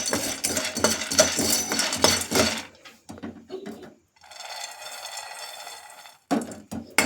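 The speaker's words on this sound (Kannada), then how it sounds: "ಉರಿಗಡಲೆ ಇದನ್ನು ಕೂಡ ಒಂದು ಸ್ವಲ್ಪ ಫ್ರೈ ಮಾಡ್ಕೋಬೇಕು" Roasted gram (chana) being stir-fried in a pan for poha laddu: dry rattling and scraping of spoon against the pan in bursts, pausing into a brief hiss, then resuming with a few sharp scrapes.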